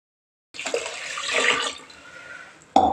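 Water poured into a cooking pot for Tamil-style milk biryani, four glasses in total after the milk, making a steady close splashing pour that swells and then eases before a brief sharper splash at the end.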